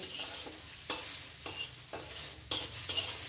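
Onion fries in a pan, a soft, steady sizzle with rhythmic scraping stirs every half second or so, quiet and close with no voices.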